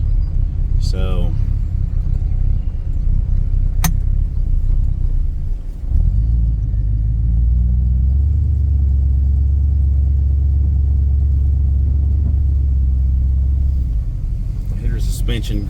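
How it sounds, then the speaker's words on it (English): An Avanti car is on the move, giving a constant loud low rumble with deeper grumbling surges partway through, and a person talks over it. "Suspension grumbling just a little bit at me"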